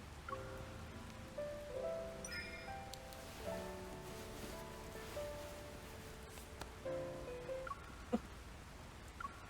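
Soft, steady rain patters on surfaces in the video game Love and Deepspace, quiet and even, with faint tonal sounds drifting underneath.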